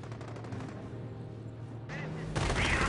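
Machine-gun fire in the strategy game Company of Heroes, heard as a steady rattle of rapid shots under a commentator's voice, swelling louder in the final moment.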